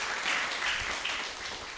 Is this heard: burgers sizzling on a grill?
no